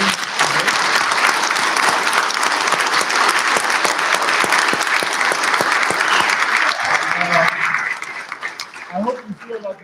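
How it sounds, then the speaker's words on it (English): Loud, dense audience applause fills the hall for most of the stretch, steady and close, then thins and fades as a speaker's voice comes in near the end. "Let's have a round of applause again."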